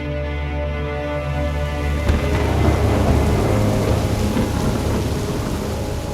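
Heavy rain pours steadily while thunder rolls in low and rumbling, growing louder and denser after the first couple of seconds and continuing without a break.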